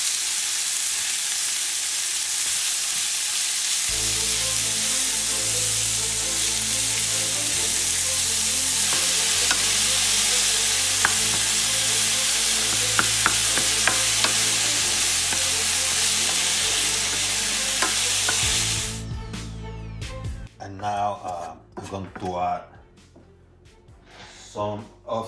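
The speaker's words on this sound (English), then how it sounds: "I'm going to grab the ground meat. I'm going to start adding it. So I'm mixing everything together." Ground beef sizzles loudly and steadily in a hot pan while being stirred for a Mediterranean stuffed eggplant dish, a dense continuous frying hiss, followed near the end by a few spoon scrapes and clatters as the sizzle fades.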